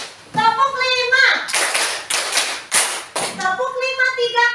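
Children clap together in a classroom counting game, a few bursts of rhythmic clapping between a teacher's sung and spoken prompts; close, lively, mixed with voices.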